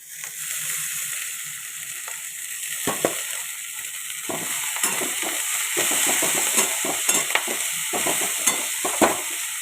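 Washed cauliflower goes into a hot pan with tomato and turmeric and fries with a steady sizzle, while a spoon stirs and scrapes against the pan again and again close by.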